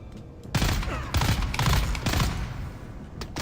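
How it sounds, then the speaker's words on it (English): Rapid bursts of gunfire from the video game Dune: Awakening crackle through the clip after a quiet half second, with dense overlapping shots continuing to the end and no talk. "Somebody else is shooting at me."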